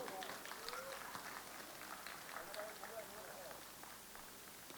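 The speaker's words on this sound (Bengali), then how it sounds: "আপনারা সকলে মিলে একটা জোরে হাততালি দিন" Sustained applause and cheering from an audience at an inauguration ceremony, with mixed voices and a steady crowd wash under the clapping.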